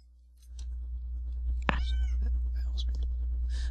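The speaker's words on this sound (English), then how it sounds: "That's my cat. I don't know if you can hear it." A cat meows a few times in a quiet room over a low steady hum, the calls brief and fairly close.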